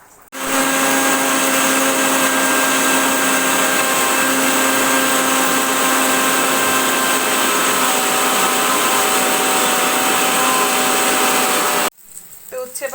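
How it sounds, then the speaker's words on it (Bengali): A kitchen mixer grinder purees onion, garlic, ginger and tomato into a paste. Its loud, steady motor whine starts abruptly, runs continuously for about eleven seconds, then cuts off. "এটাকে আমি মিক্সিতে পেস্ট বানিয়ে নেব।"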